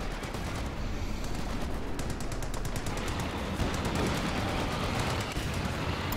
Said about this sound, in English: And there goes the machine gun as well.